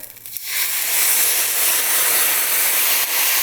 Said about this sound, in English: to my rice, I'm going to add vegetable stock